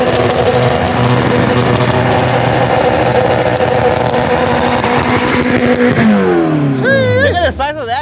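A 700hp Ford Escort RS drag race car at a drag strip in Mexico, its engine roaring loudly and steadily near the listener before dropping in pitch and rising again in sharp revs, with crowd noise and voices around it.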